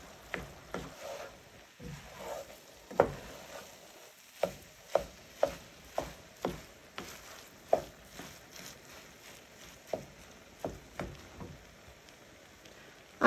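A spoon scrapes and taps against a pot while Chinese one-pot beef rice is stirred, a series of soft, separate knocks about once a second with a quiet sizzle underneath.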